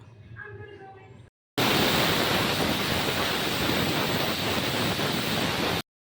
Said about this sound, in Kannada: ಇವಾಗ 2 ವಿಷಲ್ ಕೂಗಿಸ್ಕೊಳ್ಳೋಣ